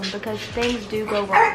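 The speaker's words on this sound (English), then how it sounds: "That was my dog." A pet dog barks a few quick yips in a home while someone talks over it, the barks short and close, partly masked by her voice.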